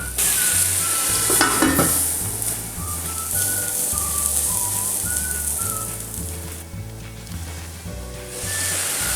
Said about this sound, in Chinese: 再加点芝麻油，放入提前准备好的粉丝， 中小火煮2、3分钟。